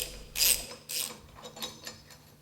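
An Allen hex socket on a 4-inch extension loosens the impeller screw of a Flygt submersible sewage pump, giving two sharp ratcheting bursts followed by fainter, intermittent clicks, close and fairly quiet.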